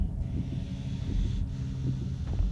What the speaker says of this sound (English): Did you hear him breathing?